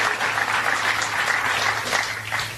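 An audience at Vice President Mike Pence's Frame USA event claps loudly and steadily, a dense wash of applause that runs the whole stretch without pause.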